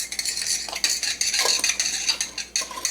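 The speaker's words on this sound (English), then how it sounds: "Then you're going to want to stir that together" A spoon stirs an active dry yeast mixture in a bowl, with quick, close clinks and scrapes of metal against the sides repeating in an uneven rhythm.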